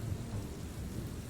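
Rain falls at night beside a Scottish loch, a dense steady wash with a low rumble like distant thunder and wind, loud and unbroken with no voices.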